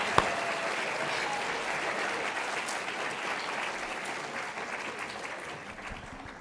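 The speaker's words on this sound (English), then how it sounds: "one more round of applause for our judges down here" Sustained audience applause at an oratorical competition, a dense steady wash of clapping that holds evenly for several seconds and fades slightly at the end, with no voices over it.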